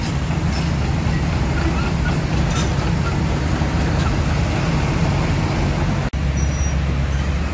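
A TN Trans intercity bus rumbles past in dense roadway traffic, a continuous low engine drone blending with the steady wash of surrounding vehicles, close and loud throughout.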